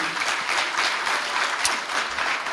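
Loud, sustained applause from a large audience for a team from an entrepreneurial school, a thick, even roar of many clapping hands without pause and with no speech over it.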